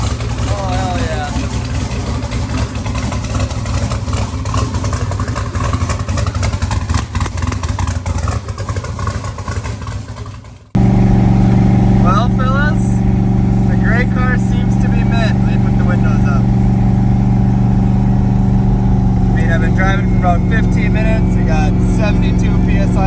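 Twin-turbo Ford Mustang engine, a loud rough rev and rumble that drops off sharply, then a steady heavy idle with whining tones while people talk nearby.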